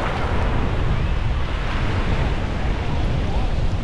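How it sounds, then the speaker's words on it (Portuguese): Southwest wind and rough sea at a rocky beach between Cabo Frio and Arraial do Cabo: loud, constant blustery wind rumble on the microphone mixed with churning surf, steady throughout. "com esse vento maral com o mar mexido"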